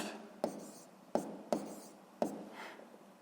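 Pen writing numbers by hand on paper while solving a physics exercise: four sharp, close strokes or taps with brief scratching between them, quiet and alone with no talk.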